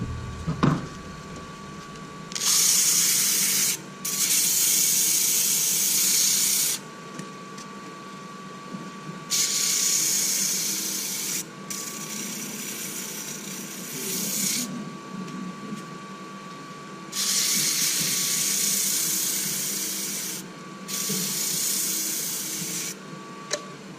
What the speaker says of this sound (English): we're going to sand this down to 220